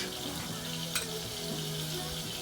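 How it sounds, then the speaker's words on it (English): Butter melting in a pan for a cheese sauce gives a steady, close sizzle and gentle frying hiss that holds evenly through the short stretch, with one faint clink near the middle. "you can see now just in my pan, the butter is just melting away"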